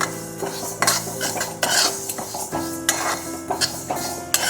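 Mung dal dry-roasting in a pan while a metal spoon stirs it, giving repeated clinks and sharp scrapes against the pan in an uneven rhythm, close up and fairly loud with no talk.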